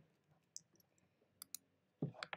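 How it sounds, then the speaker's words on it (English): Sparse keyboard typing, a few quiet, crisp key clicks spaced apart, then a slightly louder burst near the end, in a quiet room. "He's typing."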